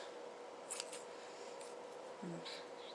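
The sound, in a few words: cutting yarn with sharp yarn scissors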